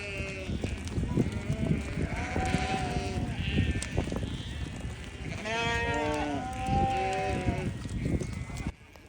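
A flock of sheep bleats near the gates at Mont Saint Michel in Normandy, several overlapping cries rising and falling against outdoor background noise, with people talking nearby.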